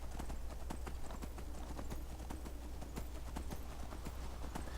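Horse hooves clip-clop in a Skyrim game, a rapid, regular run of quiet hoofbeats over a constant low hum.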